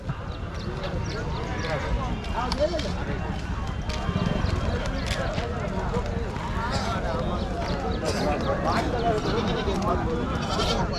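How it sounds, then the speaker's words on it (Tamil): A crowd of sheep and goats bleat over and over amid a busy livestock market din in Mattrapalli, with voices talking throughout and occasional hoof clatter. "செம்மறி ஆடுங்க வெள்ளாடு ரெண்டுமே கலந்து தாங்க வருது"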